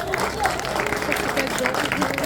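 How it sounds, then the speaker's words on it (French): A conference audience applauds in a busy, continuous burst of clapping, with voices and crowd chatter mixed through it. "applaudissez nos deux hôtes"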